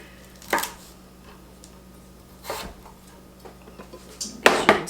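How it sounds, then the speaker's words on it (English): A knife chops celery, onions and cabbage in a home kitchen, giving three sharp, separate strikes about two seconds apart against a quiet background, with no talking. "So I'm ready to chop up my celery, my onions, my cabbage."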